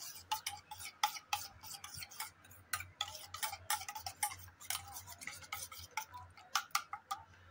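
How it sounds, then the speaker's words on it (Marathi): Rapid, irregular clicking of a fork beating egg against a bowl, close and crisp, continuing in quick bursts throughout. "आता हे अंड फेटून घ्यायचं"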